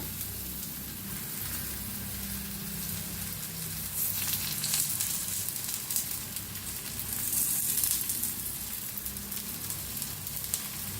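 Dhapate flatbread fries with ghee on a hot pan, giving a steady, crackling sizzle that swells twice for a moment, close-up and with no voices.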